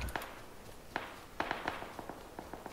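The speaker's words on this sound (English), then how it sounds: "Gunfire directly northeast of me" Gunshots in PUBG, a battle royale shooter, come as scattered sharp cracks at a distance, several isolated reports spread irregularly over a quiet background with a few quick doubled shots.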